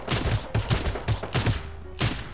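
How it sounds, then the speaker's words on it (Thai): A sniper rifle in the mobile battle-royale shooter Knives Out fires in quick succession, about eight sharp cracks spaced a fraction of a second apart, close and fairly loud with brief echoing tails. "สไนเปอร์นี้เนี่ยแบบกดรัวๆได้นะ"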